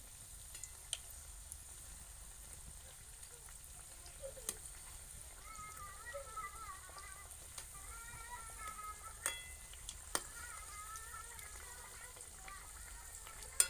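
Radish kachori frying in a pan over a low flame, giving a steady soft sizzle with faint bubbling and occasional small pops and clinks, close by and fairly quiet, with no talk.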